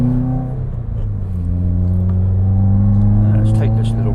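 Subaru WRX 2016 engine rumbling steadily with a throttle blip during a heel-toe downshift on the road, a low continuous drone that rises in pitch toward the end, heard from inside the car.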